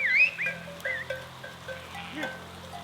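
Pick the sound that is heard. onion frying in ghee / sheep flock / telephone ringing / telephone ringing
sheep flock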